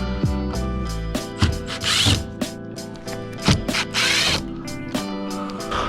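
Screws being backed out of a Bugeye during a rebuild, a close, loud power driver whirring in short bursts of varying pitch, with clicks and rattles between them and no talking.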